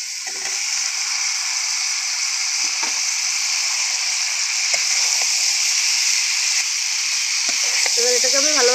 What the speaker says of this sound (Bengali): এবার আমি ভেজে রাখা আলু আর ফুলকপিটা দিয়ে দেবো।